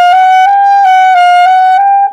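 A single sustained saxophone note is played with the mouth shaped toward an E vowel, giving a thin, bright tone. The note holds steady with a slight wavering pitch for about two seconds, close and loud with no other sound.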